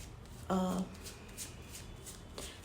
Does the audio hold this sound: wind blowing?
no